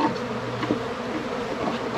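Honey bees buzz around an apiary hive on a farm during a honey harvest, a continuous close droning hum of many wings with small swells as individual bees pass nearby, with no one talking.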